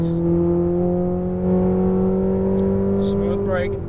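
A Ferrari 488 GTB engine pulls hard on a race track, a steady loud rising drone with strong harmonics throughout, and a brief shift-like change near the end.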